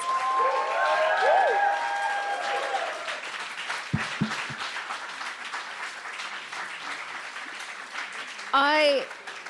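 An audience at a conversation event with a guest speaker gives sustained, moderately loud applause from a crowd, while voices talk over it and a few sharp knocks sound midway.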